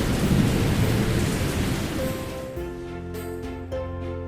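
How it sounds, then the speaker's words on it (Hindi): Heavy rain driven by strong wind roars in a dense, continuous wash, with gusty surges early that thin into steadier rainfall and distant rumbling toward the end, soaking uncovered onions after a tarpaulin blows away. "बहुत भारी बारिश हुई और तेज हवाएं चली"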